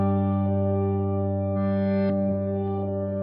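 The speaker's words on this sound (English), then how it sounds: "let's say we add in a reverse delay just for fun" Electric guitar played through a Headrush effects unit with reverse delay, jamming over an arpeggiated groove: sustained, layered tones swell and smear together in a steady wash, with a few brighter notes rising through partway.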